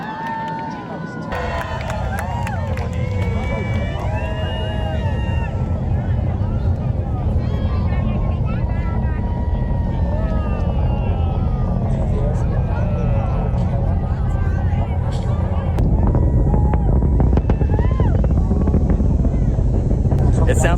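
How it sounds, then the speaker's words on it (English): A Falcon Heavy rocket launch heard from a cruise ship: a deep, continuous roaring rumble fills the clip, loud and steady like a massive engine, with voices speaking over it throughout. "It sounds like a gigantic helicopter is flying over your head."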